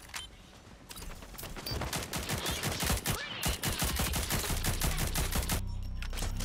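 Dense automatic gunfire in the shooter game Rogue Company, rapid bursts and volleys rattling continuously and loudly for several seconds with no talking.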